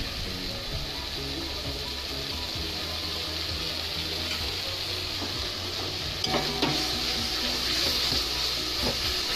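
Ginger garlic paste sizzles and fries in a pan, a steady bright hiss with scraping and clinking from stirring, close and continuous, with some louder knocks toward the end.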